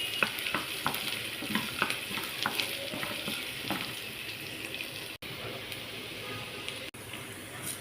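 Onion sizzling in a pan with a little salt and garlic, a steady close frying hiss broken by stirring scrapes and taps, with brief faint voice and a couple of short dropouts near the end.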